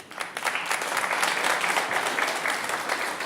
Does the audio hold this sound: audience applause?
yes